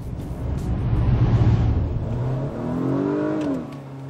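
An Acura car with Super Handling All-Wheel Drive accelerates hard, its mid-pitched engine note rising steadily and close by, with no talking over it.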